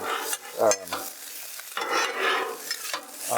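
Pork fried rice sizzles and frys on a Blackstone flattop griddle while a spatula scrapes and stirs it in repeated close, fairly loud strokes, with steady hiss filling the gaps between them.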